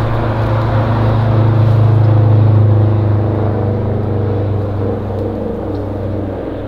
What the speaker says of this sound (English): Definitely not digging the sounds of the road